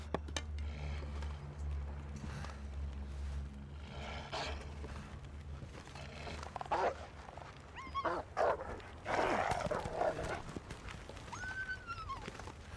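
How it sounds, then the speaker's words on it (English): A dog barks in the survival video game The Long Dark near a fishing hut on the Coastal Highway, with several sharp barks in the second half over a steady low game hum and wind-like background. "Get away from my fishing hut, you dirty dog."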